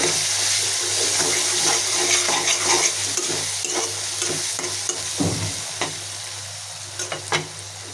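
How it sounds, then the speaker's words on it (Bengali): Shrimp fry with onion, turmeric, chili and ginger-garlic paste in a pan, a continuous close sizzle broken by stirring scrapes and occasional clinks, with no one speaking. "এখন চিংড়ি মাছ ভেজে নিলাম পেঁয়াজের মধ্যে দিয়ে, হলুদ মরিচ একটু আদা রসুন পেস্ট,"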